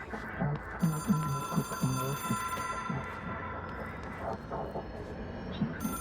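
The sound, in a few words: telephone ringing in the video game Control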